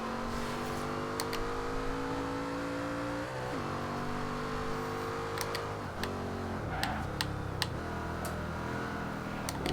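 A 2010 Noble M600 engine in Forza Horizon 2 on Xbox One, droning loud and steady as it revs and shifts, with pitch climbing and dropping through gear changes and sharp ticks scattered over the roar.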